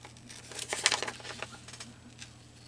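Close, crisp snips and rustles from scissors cutting paper for a junk journal, arriving as short irregular bursts over a faint hum.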